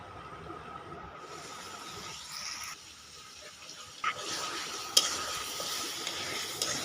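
A spice gravy with salt and turmeric cooks in a pan, giving a steady frying sizzle with a few scraping stirs and clinks; the hiss briefly drops, then returns a little stronger.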